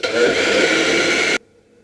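An electric mixer whirring through apple cake batter as it is mixed a final time: a steady, close mechanical buzz that cuts off abruptly.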